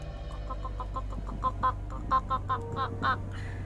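A voice imitates a chicken with a run of short clucking calls, rising into louder, sharper squawks toward the end, close and clear.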